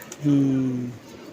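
A pigeon coos once, a single low soft moan lasting under a second, close by, with a quiet background.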